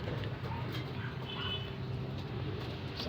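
Pigeons coo softly in a loft, faint low murmurs over a steady background hum, with occasional brief chirps and rustles and no clear speech.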